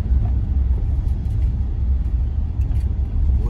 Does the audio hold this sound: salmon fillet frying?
no